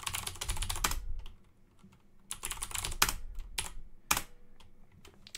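Password being typed on a computer keyboard in bursts of quick, close key clicks, with brief pauses between runs and a sharp final keystroke.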